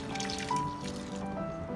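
Water pours steadily into a pot of mutton liver curry with a continuous trickling, splashing sound, close by and moderately loud.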